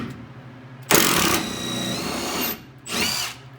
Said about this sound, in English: Small fasteners like these tend to come out with ease, even using a 3/8 inch drill.